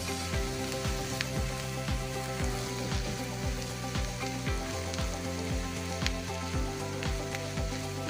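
Mashed potatoes fry with spices in a pan for aloo paratha filling, a soft continuous sizzle under repeated rhythmic scraping and stirring strokes of a spoon against the pan.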